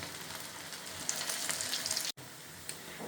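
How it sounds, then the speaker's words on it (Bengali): Prawn pakoras fry in hot oil with a loud, steady sizzle that drops out for a split second before resuming. "সেমভাবে দিয়ে সেমভাবে এপিট ওপিট করে ভালো করে ভেজে নিচ্ছি"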